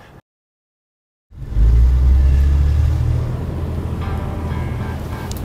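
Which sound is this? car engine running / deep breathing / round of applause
car engine running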